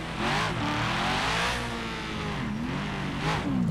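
An LS-swapped Mustang engine in the video game GTA 5 revs hard, its pitch rising and falling across several throttle blips with a rough, throaty roar, loud and close with no talking.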